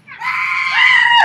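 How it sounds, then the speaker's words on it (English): A woman's scream, a single sustained high-pitched shriek that rises and swells, loud and close, lasting over a second, with no talk. "Then they heard a woman scream."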